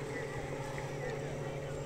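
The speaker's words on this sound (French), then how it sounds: "il couvre le bruit du moteur" A boat engine on the Maroni river drones steadily and continuously with a low hum and broadband wind and water rush, no distinct breaks.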